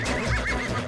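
A horse neighs loudly and close up in a short burst, a whinnying sound effect in a Hindi TV comedy scene with no talk over it.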